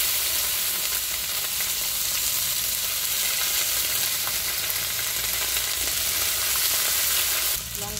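Ginger and garlic paste frying in hot oil gives a steady, dense sizzle with a faint stirring texture. It stays close and even throughout, then eases off sharply just before the end.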